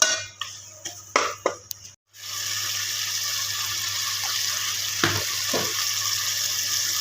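Minced keema and onions frying in a pan, a steady loud sizzle after a few clattering stirs and scrapes of a spoon, with occasional stirring bumps under the continuous hiss.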